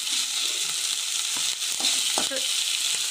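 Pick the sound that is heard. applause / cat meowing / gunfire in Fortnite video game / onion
onion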